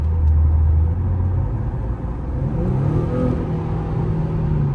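The engine of a brand-new car rumbles and revs with a deep, low exhaust tone, loud and steady throughout with a slight rise in pitch, close up and without talk.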